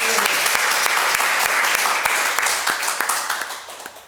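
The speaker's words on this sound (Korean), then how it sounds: "이 하나님께 우리가 한번 영광의 박수를 올려드리면 좋겠습니다" A church congregation gives a round of applause in praise of God during a Korean mission sermon, loud continuous clapping from many hands that gradually tapers toward the end.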